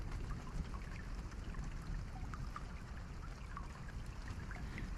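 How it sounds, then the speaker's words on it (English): Steady rain falling, a dense continuous hiss with soft scattered droplet patters, even and unbroken throughout, no voices. "Listen to the rain."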